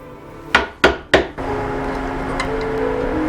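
Three sharp, close knocks of a chisel cleaning up recessed dovetail sockets in wood for the ogee bracket feet of a Townsend kneehole bureau, followed by a low steady hum with a faint tap.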